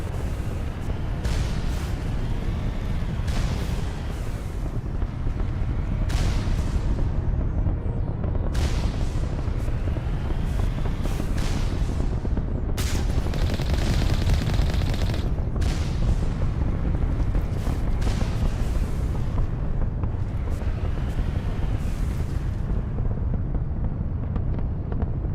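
Deep, rumbling artillery blasts and explosions from the Mass Effect 1 video game boom over and over beneath a constant wind-like roar, each impact landing heavy and close.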